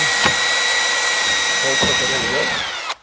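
A power drill bores a hole through a layer of carbon fiber and urethane plastic on a Model 3 front lip splitter, whining steadily and loud for about three seconds before cutting off abruptly.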